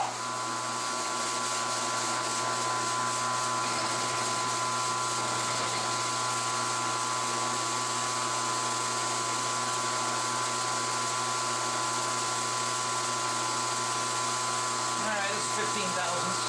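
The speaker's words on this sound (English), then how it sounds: "we'll just do a quick little machining test just to see" Steady machining noise from a lathe tool holder taking a test cut, a continuous loud whine with a constant hum, the hard mechanical drone running unbroken throughout.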